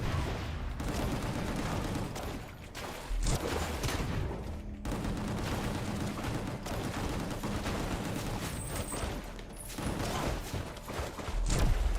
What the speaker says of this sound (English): just shoot everywhere is honestly what I'm doing at this point